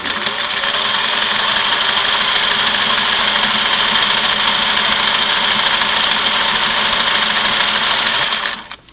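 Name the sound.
Singer 503A sewing machine sewing a single needle satin stitch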